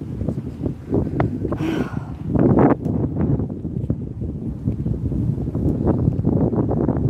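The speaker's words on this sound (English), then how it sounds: "It's windy. I'm going to stand out in the wind." Gusty wind roars steadily against the microphone, a broad rushing noise that swells and buffets throughout with no talking.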